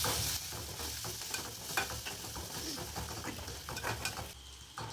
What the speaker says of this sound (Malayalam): ഇനി ഈ ചതച്ച മസാല നമുക്ക് ഈ എണ്ണയിലേക്ക് ഇട്ട് കൊടുക്കാം.